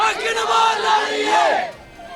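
A crowd at a Punjab school election shouts a short slogan chant in unison, loud and close, the voices rising together then dropping off abruptly.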